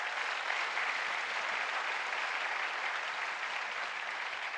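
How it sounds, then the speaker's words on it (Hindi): An audience at a Kargil Vijay anniversary event on a college campus applauds the artillery, producing a continuous, even roar of clapping that stays steady throughout, with no voices heard over it. "आर्टिलरी के लिए जोरदार तालियां हो जाए।"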